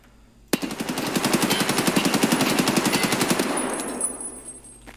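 An AKS-74U fires full-auto in Escape from Tarkov: one long, loud burst of rapid, evenly spaced shots that lasts about three seconds, then an echoing tail fades out.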